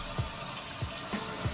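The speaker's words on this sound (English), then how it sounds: "turn the sink on, rinse it off a little bit" A sink tap runs steadily while a KTM dirt-bike air filter is rinsed under it, a broadband hiss of flowing water with a few soft low thumps at regular intervals.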